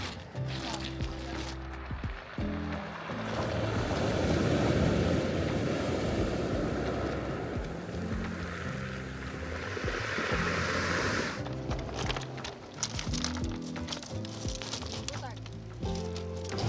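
Winter sea surf rolling in at the Batumi boulevard, a broad roaring wash of waves with wind buffeting the microphone, rising and easing over several seconds, with voices talking at the start and end.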